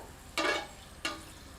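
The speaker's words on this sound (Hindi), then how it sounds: "1 टीस्पून साबुत धनिया और 5 से 6 साबुत लाल मिर्चों को डालकर कुछ क्षण भूनते हैं" Whole coriander seeds and dried red chillies hit hot oil in a pan, giving two short, bright sizzling hisses about half a second apart. Each sizzle fades quickly against a quiet kitchen background.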